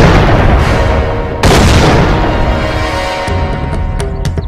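A bomb blast in a Bhojpuri action film erupts loud and close, with a deep booming roar and a second heavy burst that spreads out, then fades into rumbling debris and a few sharp cracks.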